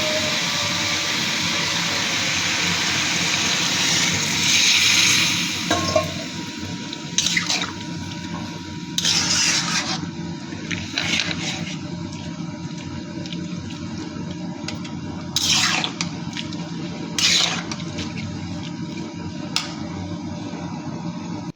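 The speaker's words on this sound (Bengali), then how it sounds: "এখন দিয়ে দিব গরম পানি।" Hot water pours into a frying pan of fried ridge gourd and dal, giving a continuous watery rush and bubbling with intermittent splashes and clatters of a utensil, no talking.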